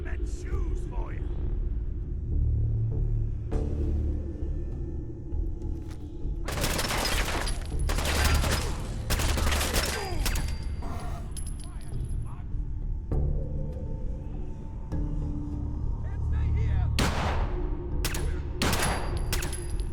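Shotgun fire in a video game, heavy booming blasts arriving in scattered clusters with rumbling tails, loud and close, while a player talks throughout.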